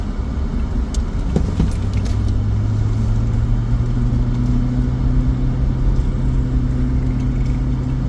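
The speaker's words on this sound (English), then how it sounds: "I'm going to wait till after these 2 cars" Two cars pass by on a road, a steady engine and tyre rumble with a droning tone that builds and holds, loud and close with no talk.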